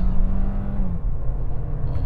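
MG5 compact sedan with a 181-horsepower engine, throttle pressed hard from around 30–40 km/h: a steady, loud engine drone rising under acceleration, continuous throughout with no talk over it.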